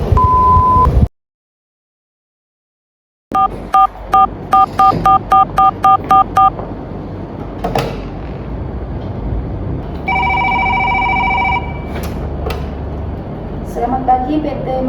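Telephone keypad tones beep in quick sets of short pulses during an office phone call demonstration, with a sustained ringing tone and people speaking in between, loud and close after a brief silent gap.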